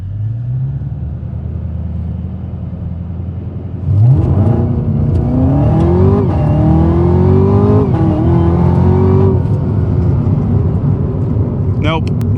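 A Camaro ZL1 1LE in track mode revs up from a steady drone into a loud, rising engine roar, climbing through gear changes close to the listener.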